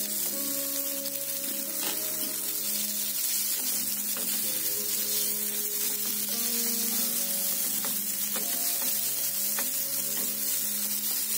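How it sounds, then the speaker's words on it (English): Cut wheat flour balls sizzle and crackle steadily as they fry in browned dal, a continuous close frying hiss with faint stirring and no talk. "When the dal becomes brown, We'll add the cut balls into it."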